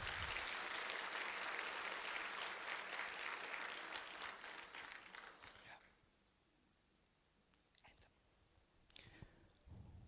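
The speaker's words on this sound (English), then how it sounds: "Just a nice big applause for everyone." Loud applause from a large crowd at a college graduation ceremony for several seconds, dying away into quiet with a few scattered sounds and stray claps.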